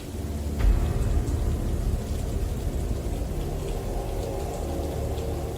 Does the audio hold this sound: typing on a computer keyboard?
no